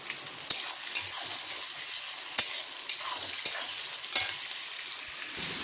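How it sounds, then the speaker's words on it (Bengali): Onions sizzle in a pan for a spicy chicken curry, a constant hiss of frying close up, broken by a few sharp clinks and scrapes of stirring, with no voices. "এবার এতে পেঁয়াজগুলো দিয়ে দেবো আর একদম ঝাল ঝাল করে স্পাইসি করে চিকেনটা বানাবো"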